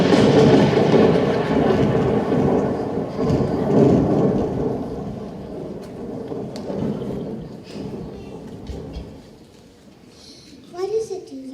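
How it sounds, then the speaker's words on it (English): A thunder sound effect rumbles low and heavy during a high school stage production of The Sound of Music, then gradually fades. Children's voices talk over and after the rumble. "the lightning says something to the thunder, and the thunder answers it back"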